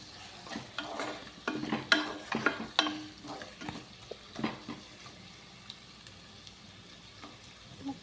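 Grated jaggery and bitter gourd being stirred and fried in a pan, soft sizzling under repeated scraping and stirring strokes that come in irregular bursts, then settle into quieter frying.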